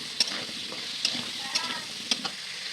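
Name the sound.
squash frying in prawn-fried oil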